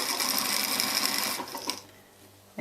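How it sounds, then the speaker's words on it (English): A sewing machine runs at steady speed, stitching fabric seams for a neck support pillow, a fast continuous whirring buzz that stops abruptly, leaving a quiet hum and a click. "And I stitch exactly there where the seams are."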